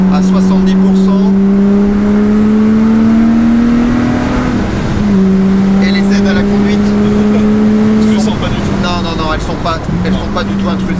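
A Lotus Exige 350 Sport with aluminium chassis accelerates under a wider throttle opening, its engine note climbing steadily in pitch, dipping briefly at a gear change, then rising again loud and close, with people talking over it.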